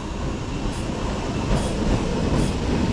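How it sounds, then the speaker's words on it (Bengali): A near-empty night local train on the way to Ranaghat rumbles steadily with wheel and carriage noise as it pulls into a station, loud and close, with no voices. "আমাদের ট্রেন এখন ঢুকছে রানাঘাট যাওয়ার।"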